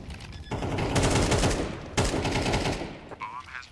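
Rapid automatic gunfire rattles in a Counter-Strike 2 match, loud and close with two dense bursts separated by a brief gap, trailing off at the end.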